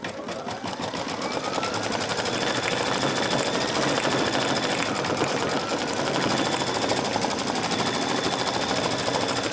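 An embroidery machine stitches thread onto denim with a continuous loud, rapid needle hammering that holds a steady rhythm throughout.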